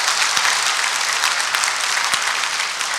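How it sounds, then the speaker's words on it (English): An audience at a civic proclamation event applauds steadily for about three seconds, a loud, even patter of many hands with occasional sharper claps standing out. "Let's give a round of applause."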